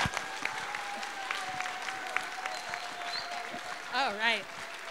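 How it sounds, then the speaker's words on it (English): Faint, distant clapping for a student panel at a Women's History Month school assembly, a steady patter of many hands in a large hall, with a short murmur of voices near the end. "big round of applause"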